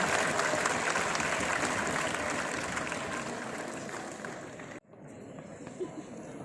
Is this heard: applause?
yes